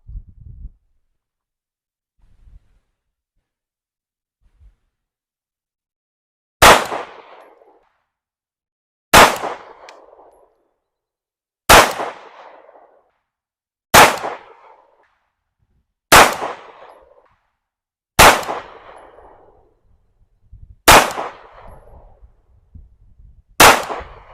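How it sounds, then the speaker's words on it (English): A PSA Dagger pistol, a Glock-style handgun, fires 115 grain MagTech rounds on a range: eight loud, sharp shots spaced a few seconds apart, each with a short ringing decay, after a quiet start. "we've got 15 rounds of 115 grain MagTech ammo. Let's see how it shoots."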